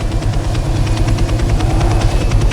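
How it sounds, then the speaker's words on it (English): A Black Hawk-style helicopter in ARMA 3 runs with a loud, close turbine whine over a fast, steady rotor chop that pulses evenly throughout, with no voices. "This is just one of the helicopters that I was actually using in test mode."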